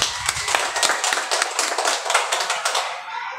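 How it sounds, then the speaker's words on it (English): Children in a classroom clap their hands together in a quick, loud burst of many overlapping claps that fades away just before the end. "Okay, clap."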